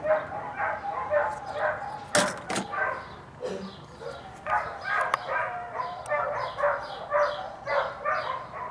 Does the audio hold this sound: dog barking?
yes